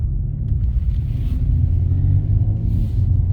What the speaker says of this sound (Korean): 네, 엔진음하고 배기음만.